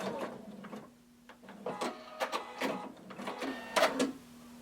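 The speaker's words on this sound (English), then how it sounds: "Going to sew until you reach your stitching line" A sewing machine back-stitches a tunic pocket in quick, close bursts of rattling stitches, with short stops, a low steady hum and small mechanical clicks, and no voices.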